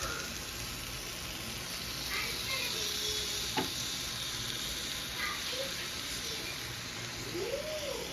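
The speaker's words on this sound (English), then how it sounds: "Just add my shrimp to the pan." Shrimp sizzling in a hot pan, stirred with a wooden spoon: a steady close crackle and hiss with a few scraping stirs and a brief clink, no talking.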